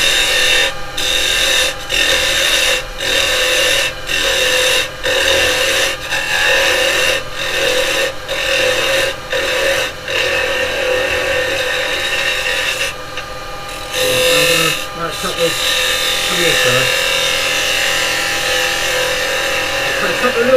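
Carbide chisel shaving the side grain of a wooden pen and pencil pot spinning on a wood lathe, a steady close rasping scrape broken by short regular pauses, with a brief shift in tone near the end.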